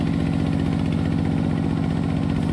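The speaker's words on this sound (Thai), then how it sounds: "เครื่องยนต์18แรงนี่จะเห็นไหมครับไม่ค่อยเร่งเท่าไหร่นะครับ" A small 18-horsepower tractor engine idles steadily, a loud, even low-pitched chugging throbbing throughout without revving.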